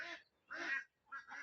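Ducks on a duck farm quack in three short bursts separated by brief silences, faint and somewhat distant, with no talking.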